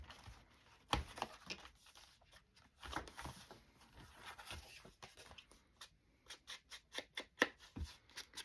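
Scissors cut paper for a floral journal: a quiet run of crisp snips and paper rustles, speeding up into a quick rhythmic series of cuts near the end.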